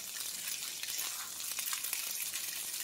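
Spaetzle fries in a pan as it is stirred, a close, steady hissing sizzle with occasional scraping and crackles throughout.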